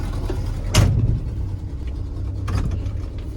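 A Ford F-100 pickup that sat unused for years idles with a low, steady rumble, close by, broken by two sharp clunks.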